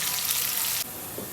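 Chopped onions sizzle and fry steadily in a hot pan for a cabbage stir-fry, a dense hiss that drops slightly in level partway through, with no voices.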